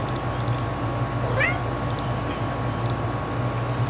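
A single short meow from a cat in a video game rises and falls over a steady background hum, with faint ticking in the mix and no talking.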